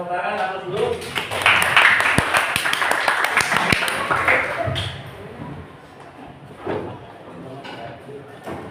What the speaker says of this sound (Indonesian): kita berikan tepuk tangan satu dulu.